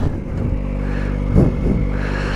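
A Kawasaki ZX-4RR motorcycle idling close by with a steady buzzing engine note, broken by a couple of short throttle blips that swell and fade.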